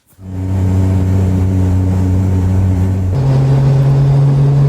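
A 1989 S13 Nissan Silvia street-legal drift car engine drones loudly and steadily while driving, its pitch jumping up partway through as it accelerates, with no voices.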